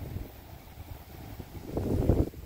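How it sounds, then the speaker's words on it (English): Wind buffets an outdoor microphone near ripening rose hip bushes, a low rumbling roar that swells into a stronger gust near the end. "It's a very windy day today, so that doesn't help me with the filming."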